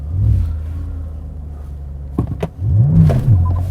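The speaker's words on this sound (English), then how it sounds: "Hold the shifter forward, then apply the throttle." A car engine, from a BMW M5 or Porsche Panamera GTS, rumbles at a steady idle, then blips sharply and rises into a brief rev during a launch control attempt.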